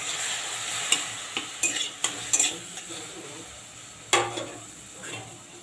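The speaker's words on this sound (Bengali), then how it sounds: "এবারে কেটে রাখা টমেটোটা দিয়ে দিচ্ছি" Salted, chopped tomato tipped into a hot kadai and stirred, giving a soft sizzle with scattered clinks and scrapes of a spoon against the pan, fairly quiet and close.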